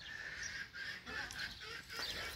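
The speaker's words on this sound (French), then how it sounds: "je vous montre les canards et les 2-3 grosses poules qu'on a par ici" Ducks and hens squawk and honk repeatedly, close by, in a noisy, overlapping flock.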